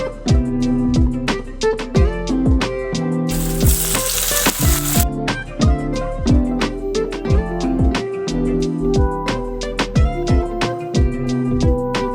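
Onions sizzle loudly in hot oil with mustard seeds and cumin for homemade sambar, a steady close frying hiss broken by clinks and stirring scrapes, with one brief louder burst of spattering.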